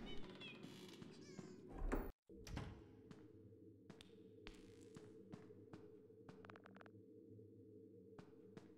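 A cat meowing in Five Nights at Freddy's: Into the Pit, a short cry near the start amid scattered game clicks and thumps, followed by a sudden dropout and quieter ambient noise with occasional knocks.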